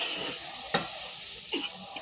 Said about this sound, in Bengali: দেখো লাল শাকটা কিন্তু জলটা কমে এসেছে আর সুন্দর কিন্তু ভাজাও হয়ে এসেছে।